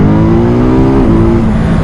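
Ducati Monster 2021 motorcycle engine held at high revs, a loud, steady, close-up roar with a slight dip and recovery in pitch partway through, with no talking.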